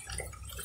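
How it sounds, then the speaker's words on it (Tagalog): Water is added to rice bran pig feed on a small farm, a brief, faint liquid splash lasting under a second. "Dinadagdagan natin ng tubig"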